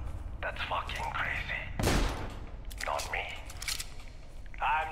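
Pistol gunshots in the Dead Island video game crack in a single loud burst mid-clip amid game effects, while players talk over the action.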